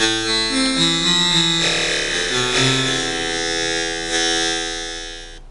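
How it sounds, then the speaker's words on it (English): A buzzy, harmonically rich raw oscillator tone from a Waldorf Blofeld synthesizer holds steady and shifts pitch a few times, loud and upfront with no other sounds. "what's the real wave, what's the oscillator sound like?"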